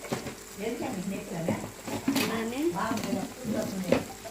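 A spoon stirs chicken curry with turmeric in a pan. A soft sizzle and scraping strokes run throughout, quieter than a voice that talks over them.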